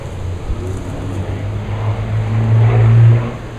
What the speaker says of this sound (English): It sounds like somebody's driving recklessly.